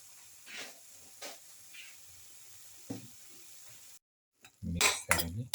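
Fish stew with coconut, mango and black pepper gets mixed with a utensil in a pot, giving soft scrapes, then a short pause and a few loud clinks and knocks against the vessel.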